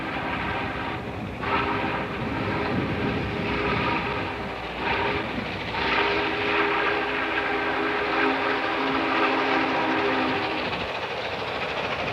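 The Norfolk and Western 611 steam locomotive passes close by in a loud, continuous rumble of rolling cars and clatter, with a sustained horn blast sounding over it for several seconds.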